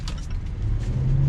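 A Range Rover SV Autobiography engine hums low and steady through a U-turn, a brief, even rumble without sharp revving.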